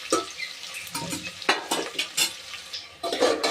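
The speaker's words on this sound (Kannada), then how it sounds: "ಈರುಳ್ಳಿ ಫ್ರೈ ಆಗಬಾರ್ದು, ಮೀಡಿಯಮ್ ಫ್ರೈ ಆಗಲಿ ಸಾಕು" Onions frying to medium golden brown in oil and ghee, stirred in a pan, with an uneven crackling sizzle punctuated by close scraping strokes at a low, intimate level and no speech.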